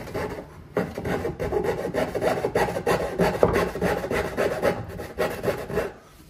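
A hand saw cuts through wood while building a portable 240 by 120 cm table or bed, giving steady rasping back-and-forth strokes, close and loud, with a brief pause near the start and no talking.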